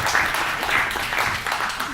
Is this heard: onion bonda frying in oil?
no